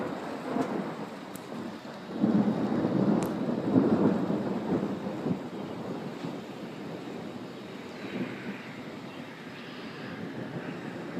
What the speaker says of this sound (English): Rain coming down faster and faster.